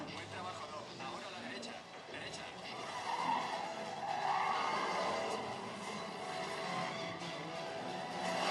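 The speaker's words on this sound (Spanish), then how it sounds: "En este ejemplo tenemos una caja fuerte y dos coches que están tirando con unos cables de ella." Two cars in a Fast and Furious film scene strain against cables hauled to a heavy safe, tires skidding and squealing amid a loud, continuous roar of engines and scraping, with voices mixed in.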